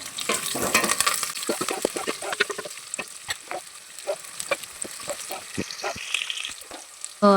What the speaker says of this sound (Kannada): ಈ ಥರ ಮಿಕ್ಸ್ ಮಾಡ್ಕೊಂಡಾಕ ಇದ್ರೊಳಗೆ ನಾನು ಕರಿಬೇವು ಹಾಕ್ತಾಯಿದ್ದೀನಿ. ಸೊ ಅದಕ್ಕೆ ಮಿಕ್ಸ್ ಮಾಡ್ಕೋಬೇಕು.